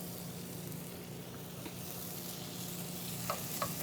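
Bacon fries in a pan with a steady, soft sizzle and crackle, faint and continuous, with a few light pops and scrapes near the end and no talking.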